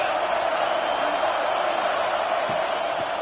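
Stadium crowd in a college football video game, Nebraska Cornhuskers in a third-and-goal situation, a steady roaring wash of cheering heard from a distance with no breaks.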